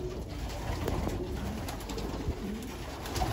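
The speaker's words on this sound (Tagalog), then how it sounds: "Tawag ang kalapate." De Scheemaeker pigeons coo softly at a pigeon loft, the low calls repeating over a steady, hissy background.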